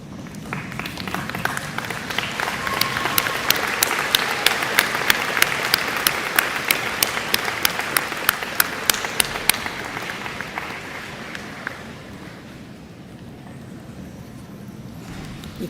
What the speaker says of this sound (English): Graduates, please stand, turn around, and applaud your family and friends and others that have supported you that are here today.